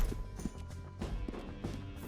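Horse hooves in Red Dead Redemption 2: a steady galloping clip-clop of a single horse, moderately close and fairly soft, heard alone.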